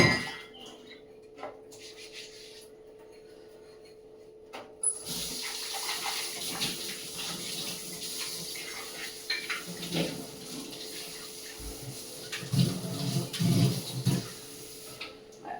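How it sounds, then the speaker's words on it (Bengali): Tap water runs steadily into a sink while dishes are washed, with faint clinks of pots and plates under the flow, close and moderately quiet; no talk. "আজকে বেসিনের তো মানে অনেক বাসন আছে এখানে তা সেই বাসন বাসন সব ধোবো"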